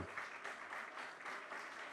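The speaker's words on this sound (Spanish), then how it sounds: "Les brindamos un fuerte aplauso." Steady applause from an audience at the close of a presentation on a charter of digital rights, a sustained wash of clapping with gentle surges, moderately distant and without voices.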